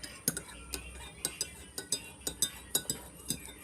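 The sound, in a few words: stirring a homemade cough remedy with a spoon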